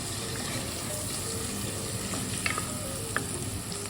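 Onions frying in a pan, a dense, continuous close sizzle with a couple of light utensil taps.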